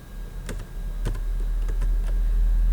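Keys tapped on a computer keyboard while entering an Excel formula, a handful of sharp, irregular clicks over a low steady hum.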